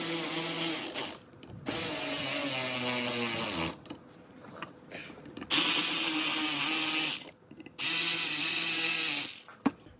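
An electric power tool spins Jeep Wrangler JK oil cooler bolts in several long, loud whirring runs. Short pauses and a ratcheting clatter separate the runs, and no one talks.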